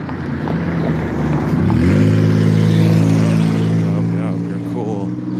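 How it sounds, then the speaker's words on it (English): A car engine revs up, swelling to a loud sustained roar before easing off, with voices talking over it. "To hear your car go."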